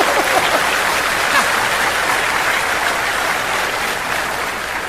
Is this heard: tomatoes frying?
no